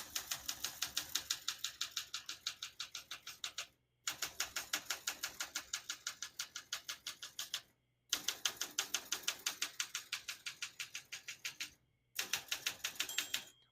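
Typing on a 1966 Olympia SM8 vintage portable typewriter: rapid, even runs of crisp key strikes in three long bursts separated by brief pauses, close and clear with no talking.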